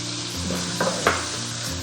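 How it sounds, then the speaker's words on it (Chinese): Pork being stir-fried with scallion, garlic and small chili peppers in lard, a steady close sizzle with a few sharp spatula scrapes against the wok. "我们先下入猪肉煸炒，把猪肉炒至差不多熟了过后，我们下入葱蒜小米椒"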